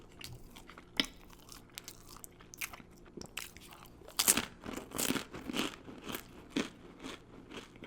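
Dry, tough crackers bitten and chewed with no water, giving sharp crunchy bites followed by clustered crackling chews, close up and fairly quiet, with no talking.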